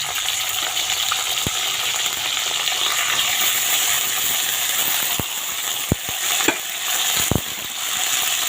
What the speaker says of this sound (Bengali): ওই তেলেই গোটা জিরে তেজপাতা ফোড়ন দিয়ে এখন আমি এই যে কপিগুলো দিয়ে দিচ্ছি